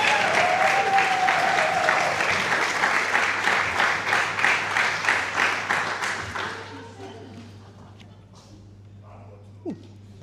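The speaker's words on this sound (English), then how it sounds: "Let's give him another round of applause." Diners at a New Zealand awards dinner give a round of applause, dense rhythmic clapping that fades out after about seven seconds, with a faint voice and background hum afterward.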